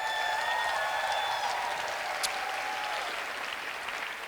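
A poetry slam audience at Verselandia 2023 applauds a poet after the scores are read, with sustained crowd clapping and scattered cheers and whistles in a hall. The applause slowly tapers.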